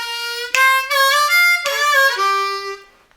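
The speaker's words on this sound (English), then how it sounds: "let's listen to that one more time nice and slowly before we play it together" A harmonica plays a slow lick, sustained reedy notes bending and stepping down in a few phrases, close and clear, alone, fading at the end.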